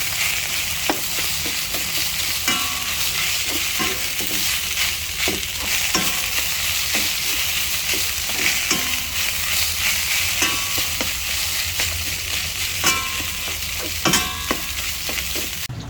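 Fried rice with garlic bits sizzles steadily in a hot pan while a utensil stirs and scrapes at irregular intervals, close and continuous with no talking.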